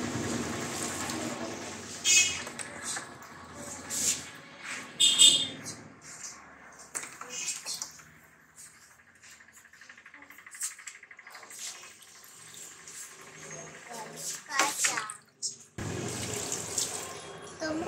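Water splashes and trickles in irregular bursts, like a tap or pouring onto plants, fairly faint and close, with short gaps and a few quiet voice sounds.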